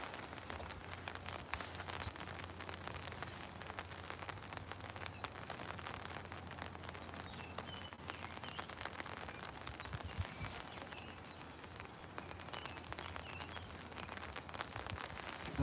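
Steady rain falling outdoors during a fishing outing, a continuous dense patter of drops on surfaces with a low hum underneath, constant and fairly loud throughout.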